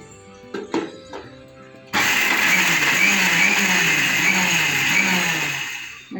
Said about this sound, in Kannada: ಹಸಿಮೆಣಸಿನ್ಕಾಯಿ ಹಾಕ್ತಾಯಿದ್ದೀನಿ ಮಿಕ್ಸಿಗೆ. ಇದು ಶುಂಠಿ, ಇದನ್ನು ಒಂದು ಸುತ್ತು ಹಾಕ್ಕೋತೀನಪ್ಪ.